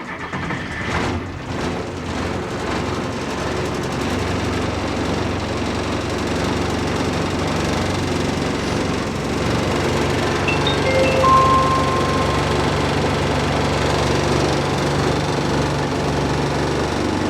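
A 1980 International S1854 dump truck engine cranks and catches, then runs with a steady, rough, knocking diesel clatter heard up close.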